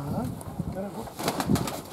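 Pigeons at a loft, including a young bird out for the first time this year, coo softly and close, with wing flutters and a voice speaking in the background.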